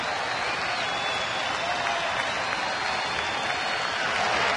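A baseball stadium crowd roars and applauds in a dense, steady wash of cheering that holds the whole time.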